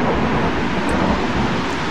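Thunder during a sandstorm in the Gas Station Simulator video game, a loud, sustained broadband rumble with no distinct cracks, heard alone without talk.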